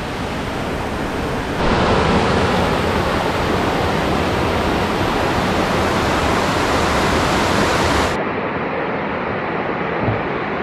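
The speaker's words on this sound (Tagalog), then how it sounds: "So welcome to Panagbakan Falls in San Agustin, Surigao del Sur." Panagbakan Falls in San Agustin, Surigao del Sur, a small waterfall giving a steady, dense rush of falling water that holds loud and unbroken throughout, with a slight shift in level partway through.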